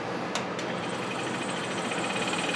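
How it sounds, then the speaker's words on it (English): Pegas scroll saw fitted with a number 7 modified geometry blade cutting half-inch sapele, a steady fast buzzing reciprocation running continuously and close, with two brief sharp ticks near the start. "I'm using a number 7 Pegas modified geometry blade to cut these animals from 1/2-inch thick sapele"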